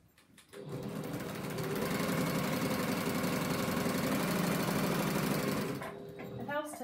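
A sewing machine stitches through three layers of a quilt's outer binding, running steadily and loud for about five seconds after a brief start, then slowing near the end.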